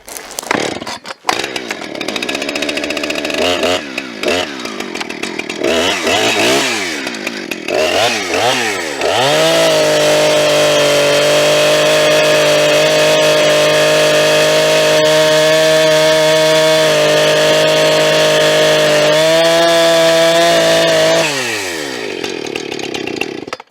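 An ECHO DCS5000 56-volt battery chainsaw starts with a few short bursts. It then settles into a loud, sustained whine as it cuts through wood for about twelve seconds before winding down, and nobody talks.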